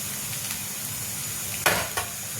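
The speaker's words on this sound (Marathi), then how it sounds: "आता या कांद्यामध्ये कोबी टाकून द्यायचं" Chopped cabbage drops into onions frying in a pan, a soft steady sizzle broken by two short bursts of louder hissing and clatter near the end.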